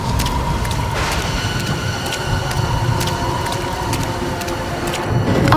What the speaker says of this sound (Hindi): अरे बरसात फिर शुरू हो गई